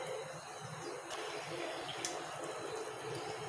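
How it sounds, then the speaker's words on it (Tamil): Water runs steadily into a glass of homemade orange juice sweetened with cane sugar, a continuous close-up splashing pour with no talking over it. "இப்போ ஒரு டம்ளர் நம்ம தண்ணி சேர்த்தி வச்சுங்க."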